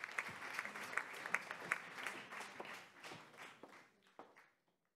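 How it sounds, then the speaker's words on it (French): Applause for award winners at a closing plenary session, a fairly small audience clapping at moderate distance, brisk at first then thinning out and fading to silence within a few seconds. "Applaudissements, s'il vous plaît, pour nos lauréats."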